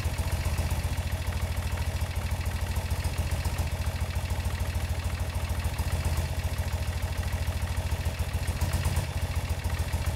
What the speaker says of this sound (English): you can sort of hear it as you apply a little bit of throttle. You hear that little bit of stutter